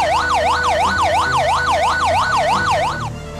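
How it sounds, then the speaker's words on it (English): A classic fire truck siren rapidly oscillates up and down in a steady yelp, loud and near, fading slightly at the end. "Classic Fire Truck."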